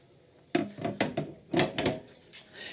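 Drawers in the kitchen of a 2026 Fleetwood Bounder 35K motorhome slide and knock open and shut, giving a run of close wooden thumps and rattling slides, several in quick succession in a quiet interior.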